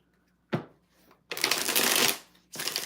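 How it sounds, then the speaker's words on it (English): Tarot cards are shuffled in several quick riffling bursts, one short, one long, and another starting at the end, close and crisp with no talking. "5 shuffles for Miss String."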